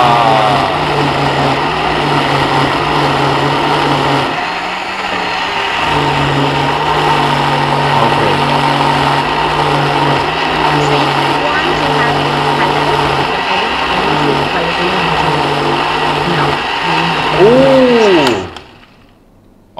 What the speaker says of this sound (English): I'm not sure if you guys can hear it because the blender was moving